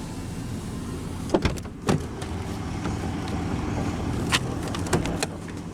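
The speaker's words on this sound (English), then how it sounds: "But now we'll roll down the driver's window" Driver's window on a 2020 Ram 3500 Big Horn crew cab dually pickup truck, with fully automatic power windows, humming down under a steady low engine idle, with a few sharp clicks and thumps.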